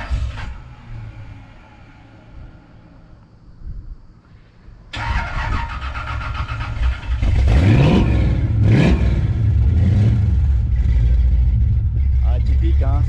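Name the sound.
cold start of 1968 Chevrolet Impala 5.7L V8 engine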